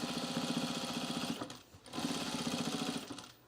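A sewing machine, not a quilting machine, stitches through a fabric rug in two sustained buzzing runs separated by a short pause, loud and close with a rapid mechanical chatter.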